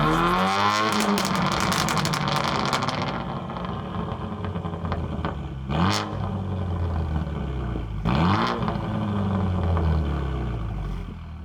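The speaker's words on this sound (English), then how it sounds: "Hear that VXR, it's a beast unleashed" A 335hp Vauxhall Astra J GTC VXR roars loudly and close as its engine revs hard, with rising and falling pitch sweeps and a couple of sharp gear-change surges over continuous exhaust drone.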